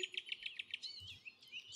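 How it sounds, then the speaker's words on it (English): A black-capped chickadee calls in woodland: a rapid series of six sharp, thin chirps followed by a buzzier run of notes, quiet and fairly close against a hushed background. "he also discovered the lively black-capped chickadee"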